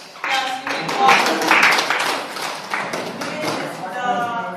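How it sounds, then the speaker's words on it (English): Applause from a small group at the close of a discussion club game, a steady patter of clapping for several seconds with voices mixed in. "Yes, you may applause."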